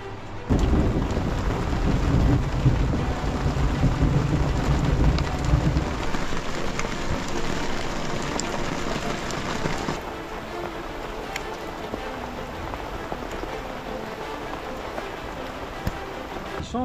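A thunderstorm downpour drums on a sailboat standing in a dry-dock boatyard during a heatwave. Heavy, continuous rain is mixed with a deep thunder rumble early on, then settles into a steady, slightly lighter hiss.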